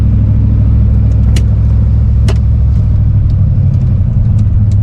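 A loud, steady low rumble comes from the engine of a manual-transmission War Admiral street car as it is started, with faint sharp clicks over the drone and no voices.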